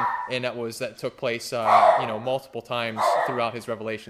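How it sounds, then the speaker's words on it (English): Dogs bark and yip loudly in several bursts close by, mixed in with someone speaking continuously over them. "Sorry about the dogs."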